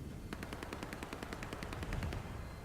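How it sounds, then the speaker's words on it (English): Rapid automatic gunfire rattles from inside a security station in the Star Citizen game, a steady stream of evenly spaced shots lasting a couple of seconds at moderate distance over a low background hum. "That's gunfire we're hearing from within the security station."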